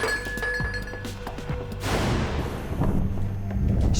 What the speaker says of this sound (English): The wooden stake is fired fast enough to pierce the laminated glass.